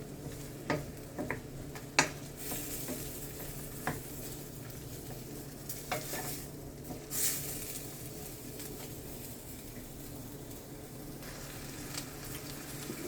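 Food sautés in a pan for an ackee dish, a soft, steady sizzle with occasional light clicks and taps of a utensil, fairly quiet and without voices.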